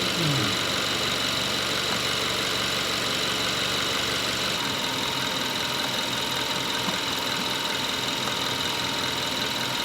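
A GDi gasoline car engine idles steadily and loudly at close range, with a constant mechanical hum and a faint ticking texture throughout, and no voices.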